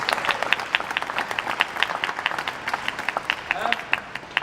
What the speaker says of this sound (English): We'll give him a applause.